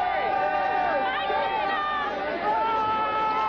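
Sellout stadium crowd of football fans at Jack Murphy Stadium in San Diego during an NFL game, a steady roar of chatter and cheering filling the space, with harmonic tonal traces like distant voices or music drifting over the din.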